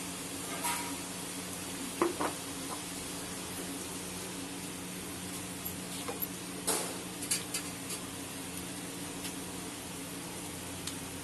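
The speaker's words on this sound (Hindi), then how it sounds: "देखिए मसाला हमारा अच्छे से भुन गया है सारा ऑयल ऊपर आ गया उसमें हम टमाटर डाल देंगे" Tomatoes added to oily fried masala for rajma, a soft continuous sizzle with a few sharp spoon clicks and scrapes, quiet and close, no talking.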